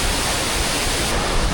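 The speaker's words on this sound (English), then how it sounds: "now this is what I call a waterfall" Loud, unbroken roar of a tall waterfall in the Scottish Highlands, dense white-noise rush recorded very close to the falling water, no voices.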